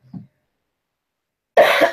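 A short throat noise near the start, then a single loud, harsh cough burst close to the microphone after a second of silence.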